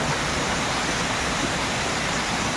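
Waterfall near Bayyaram, a steady, even rushing roar of falling water that continues unbroken and fairly quiet from start to finish.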